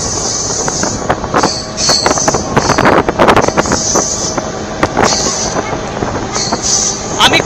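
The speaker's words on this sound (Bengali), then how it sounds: "আমি কার্ভটা দেখাবো বলেই একদম ট্রেনের লাস্ট বগিতে এসেছি।" A DEMU local train on a North Bengal line rattles and clatters through a gentle curve, heard loudly from inside the last coach with rhythmic wheel knocks, a high wheel squeal and wind buffeting, while a voice talks intermittently.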